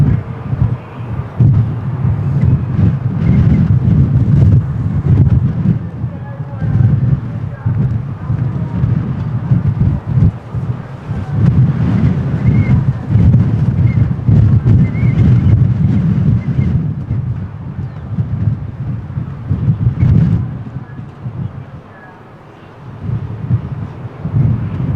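Strong gusty wind buffets an outdoor microphone at Lisbon Airport, a loud continuous low rumble swelling and easing in waves, dipping briefly near the end.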